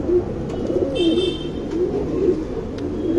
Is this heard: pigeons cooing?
yes